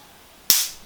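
A single sharp zap from an electric mosquito swatter, a loud snapping crackle that bursts suddenly and fizzles out quickly, close up against quiet background.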